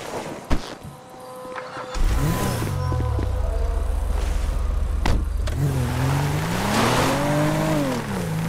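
Car in GTA 5 driving toward Paleto Bay: a door thuds, then the engine starts and revs with rising and falling pitch as the car pulls away and accelerates, fairly close and loud.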